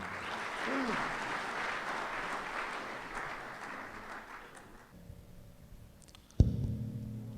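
Applause from the audience at a Mushaira poetry recital in Bahrain, a dense wash of clapping that runs for about five seconds and then fades out. A sharp bump near the end leads into a microphone voice.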